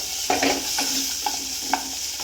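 Shallots and garlic sizzle lightly in a pan for a kari dosa, with a steady frying hiss broken by several rhythmic scrapes and taps of stirring, close and clear.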